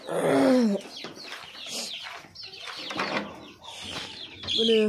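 Egg-laying hens clucking and squawking at a market, close and loud in bursts, with some wing flapping and people talking nearby.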